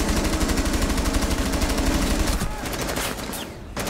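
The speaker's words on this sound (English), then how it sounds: "You can just run at them with your machine gun." Rapid machine gun fire in the video game Rainbow Six Siege, a dense unbroken burst of close, loud shots that rattles on for most of the stretch before thinning out toward the end.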